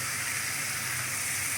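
Steady, bright sizzling as chopped ridge gourd hits eggplant frying in hot oil, a continuous close hiss with no speech.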